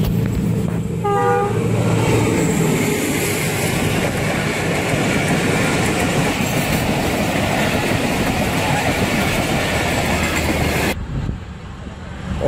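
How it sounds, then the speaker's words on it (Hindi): A train passes close by in rural Sahiwal, Pakistan, with a brief horn toot near the start and then a loud, continuous rumble and rattle of wagons that cuts off near the end. "ये आप देख सकते हैं ट्रेन आ गई है"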